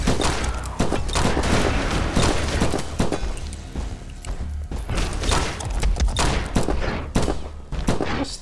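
In the top-down twin-stick shooter From Space, dense rapid gunfire crackles in bursts with heavy thuds and impacts mixed in. It stays loud and busy throughout, with short dips between volleys and no talk.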